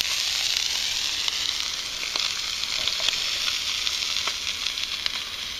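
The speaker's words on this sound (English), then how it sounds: "Got some sausages going this morning." Sausages sizzle on a camp stove at an April campsite in the morning: a steady, close, crackling hiss with scattered sharp pops and no voices.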